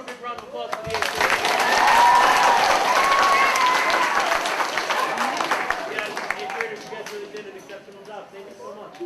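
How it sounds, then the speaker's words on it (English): A school assembly audience applauding the 8th grade, a swell of many hands clapping that builds to a peak and then slowly thins out, with voices mixed in. "let's give one more big round of applause for the 8th grade"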